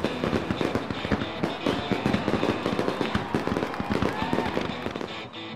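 A night-sky fireworks display by large Canadian fireworks companies, including Calgary's Fireworks Spectaculars, crackles and pops in dense, continuous bursts of explosions with no talking.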